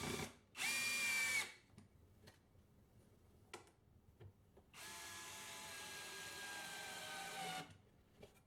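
A drill drives screws into soft cedar planter boards in two quiet bursts, a short whir and then a longer one, with light ticks and handling sounds between them.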